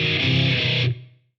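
A riff on a Line 6 Helix with a minor-third harmony switch engaged, a brief thick distorted guitar phrase with doubled harmony notes, stopping abruptly after about a second and decaying quickly.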